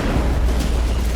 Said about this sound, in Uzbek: Suv qizigan zahoti portlash sodir bo'ladi.